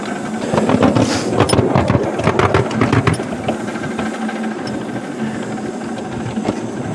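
A miniature steam locomotive chuffs and rattles steadily as it works up a rising bank, a busy mechanical clatter with rapid rhythmic beats that ease slightly after the first few seconds, close and fairly loud.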